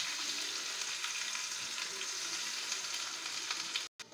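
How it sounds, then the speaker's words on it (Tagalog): Minced chicken fries in a little oil in a pan, giving a dense, steady sizzle with light stirring, close and continuous until a brief cut near the end. "Lagay po natin yung ating chicken,"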